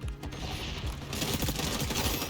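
A gun being reloaded in the shooter game XDefiant: a quick run of mechanical clicks and ratcheting metal clacks, close and crisp, with a second burst of clatter following the first.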